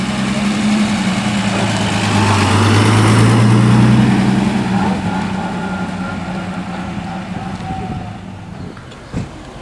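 An old car's motor runs steadily at a veteran and vintage car run held by a car club, a loud, low idle that swells slightly and then eases off, with a sharp knock near the end.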